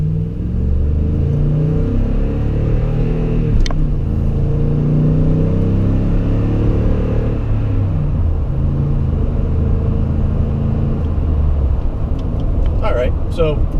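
A Toyota Tundra pickup truck engine rumbles steadily up close, rising as it picks up speed, with a low road drone throughout and a brief tick of other noise.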